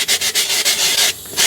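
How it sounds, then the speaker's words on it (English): A sanding block rubs back and forth over the seam of a cake dummy in quick, rhythmic strokes, close and rasping, with a short pause before the strokes resume. "you can see very quickly that you can sand that right down"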